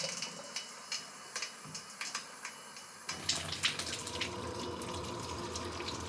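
A newly installed kitchen faucet is turned on: faint ticking handling sounds give way to a steady rushing stream of tap water splashing into the sink, close and continuous after the first few seconds, with no speech.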